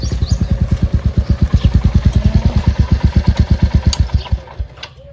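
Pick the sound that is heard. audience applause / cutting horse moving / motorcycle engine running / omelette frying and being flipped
motorcycle engine running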